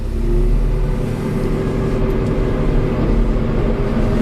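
A JCB 532-70 telehandler pulls away in first gear, its engine a loud, steady, close mechanical drone that holds throughout with no pauses and no voices.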